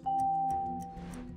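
A single electronic doorbell tone rings out clearly, a bright sustained chime that fades within about a second.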